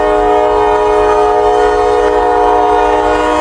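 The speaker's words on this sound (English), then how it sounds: "We got a train coming." A loud, sustained horn blares close by from a freight train with a heritage unit, its chord steady over the rumble of the passing train.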